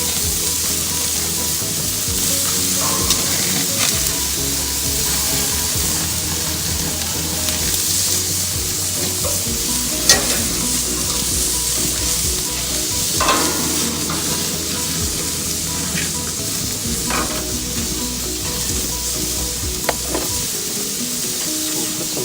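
Butter sizzles on ribeye steaks on a grill, a loud continuous hiss and crackle with occasional sharper pops throughout.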